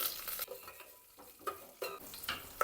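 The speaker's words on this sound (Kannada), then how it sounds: "ಈಗ ನಾನು ಇದಕ್ಕೆ ಸ್ವಲ್ಪ ಕರ್ಬೇವಿನ ಸೊಪ್ಪನ್ನು ಹಾಕ್ಕೊತಾ ಇದ್ದೀನಿ ಹಾಗೆ ಅದ್ರ ಜೊತೆ ಒಂದೆರಡು ಹಸಿಮೆಣಸಿನ್ಕಾಯಿ" Curry leaves and green chillies go into a hot pan of oil with a burst of sizzling and spluttering, followed by quick scraping stirs, close and unaccompanied by talk.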